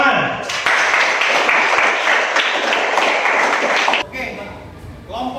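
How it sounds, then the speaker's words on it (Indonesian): A class of students claps together in a classroom, a dense burst of applause that runs for about three and a half seconds and then stops abruptly, followed by faint voices. "Tepuk tangan"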